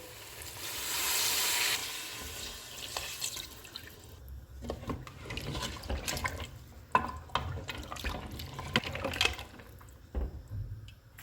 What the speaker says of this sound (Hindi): इसमें 5 कप पानी डालेंगे।